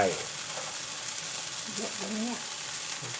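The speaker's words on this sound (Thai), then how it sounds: "ผัดให้เข้ากันครับ" Pink coconut rice noodles with bean sprouts are stir-fried in a pan, giving a steady soft sizzle with faint scraping stirs, while someone talks quietly in the background.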